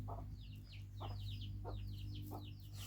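Chickens cluck softly in a few short, separate bursts of chattering calls over a steady low background hum, faint and somewhat distant, with no one speaking.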